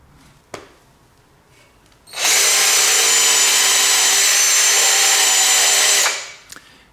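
A power drill with a titanium bit grinds into solid oak, producing a loud, sustained whine for about four seconds before spinning down, close-up and with no one talking.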